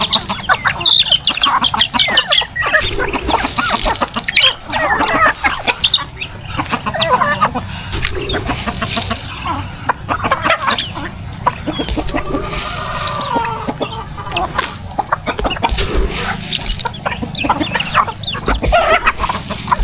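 A crowd of pet chickens clucks constantly and busily at close range, many birds overlapping in a steady, noisy chatter with occasional louder squawks.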